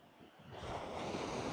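Large sea waves break on the shingle of Chesil Beach, a low rumble swelling into a loud, broad rush of surf that fills the air with steady wash and some wind noise, no voices.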